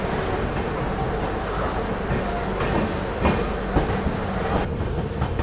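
Gorakhdham Superfast Express (12556) rolling out of a busy Basti railway station, a steady rumble of wheels and carriages with rhythmic clicks from the rail joints, close and continuous throughout.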